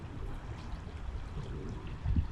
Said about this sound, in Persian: اینجا کلا این وسطش یخه، بغل از زیرش آب میره با دو تا اطرافش.